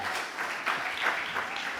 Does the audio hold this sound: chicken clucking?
no